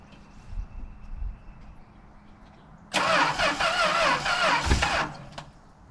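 A 1962 Valiant Signet with its 200 engine cranks and catches, roaring into a loud, uneven run for about two seconds before dying back to quiet background noise.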